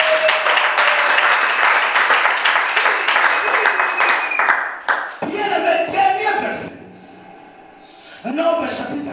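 A church congregation bursts into dense, sustained applause and cheering during a sermon, loud and close for several seconds before it breaks off into scattered voices and quieter, intermittent sounds.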